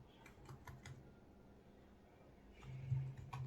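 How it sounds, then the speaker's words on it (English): Typing on a computer keyboard, a few short clusters of soft, quick key clicks close by over a faint steady hum, with no talking. "So I will just type something."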